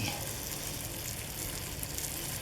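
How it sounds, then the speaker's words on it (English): Curry frying in a pot with a tablespoon of turmeric stirred in, giving a steady, close sizzle with soft spoon scraping throughout and no talking. "we give that a stir."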